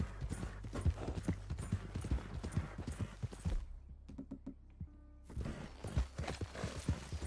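Hooves of a horse in the video game Red Dead Redemption clip-clop in a quick, close, steady rhythm, break off briefly for a neigh and a few knocks, then resume.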